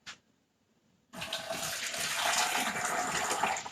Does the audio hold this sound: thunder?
no